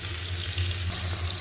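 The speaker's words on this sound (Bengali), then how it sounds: "ডালটা প্রথমত হালকা করে ভেজে নিলাম।" Mung dal fries lightly in a pan, giving a short, even sizzle with a low steady hum underneath, close and continuous.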